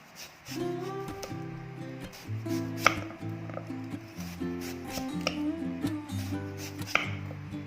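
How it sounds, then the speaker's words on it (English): Knife slicing watermelon into small pieces for jelly decoration, repeated chopping thuds and crisp cuts on a board with quieter rubbing between strokes, close and irregular, under a musical background. "now we cut the watermelon to slice"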